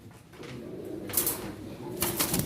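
Pigeons cooing in a loft, two short throaty coos close by over a low room hum, with no talking.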